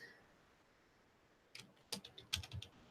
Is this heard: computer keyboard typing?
yes